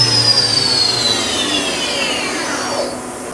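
A 1999 Daewoo DMV-500 vertical machining center runs with a smooth, steady whir and a descending high whine as the spindle winds down, with no knocking.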